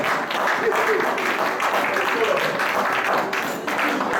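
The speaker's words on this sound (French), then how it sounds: "On acclame le Seigneur très fort." A church congregation claps and cheers loudly and steadily in praise of the Lord, a dense sustained wash of applause with voices mixed in.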